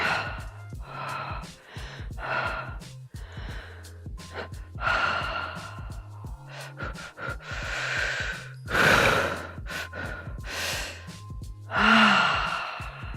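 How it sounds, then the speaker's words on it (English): A person breathes through a guided breathing exercise, with a run of audible sighs, gasps and snorts whose rhythm and speed keep changing. The breaths are close and fairly loud, and no one speaks. "Really take a breath and try different breathing."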